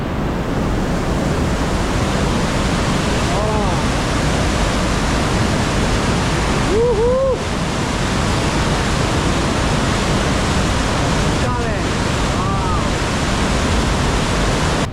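Erzen river rushing through the narrow rock walls of Holta canyon in Albania, a loud, steady roar of water that fills the whole scene without break.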